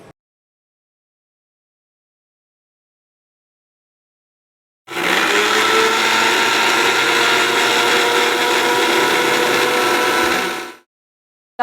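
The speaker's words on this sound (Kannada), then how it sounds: "ಈಗ ಸ್ವಲ್ಪ ನಾನು ನೀರನ್ನು ಹಾಕಿ ಮಿಕ್ಸಿ ಮಾಡ್ಕೊಳ್ತಾ ಇದ್ದೀನಿ ಒಂದು ಜ್ಯೂಸ್ನ ರೀತಿ ಮಿಕ್ಸಿ ಮಾಡ್ಕೊಳ್ತಾ ಇದ್ದೀನಿ" A mixer grinder blends herbal ingredients with water, starting abruptly after silence and running as a loud, steady whirring motor for about six seconds before cutting off.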